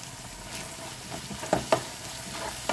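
Butter garlic sauce with black pepper sizzles gently in a pan while being stirred, a low frying hiss with a couple of sharp utensil taps.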